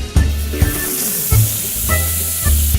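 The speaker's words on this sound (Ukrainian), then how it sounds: "Розігріваємо сковорідку на сильному вогні кладемо великий шматок масла" Butter sizzles steadily in a frying pan heated on high, a bright continuous hiss with a few louder crackling bursts and thuds as it melts and spreads.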